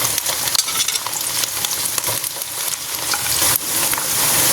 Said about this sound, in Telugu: ఫస్ట్ వెల్లుల్లి వేస్తున్నాను.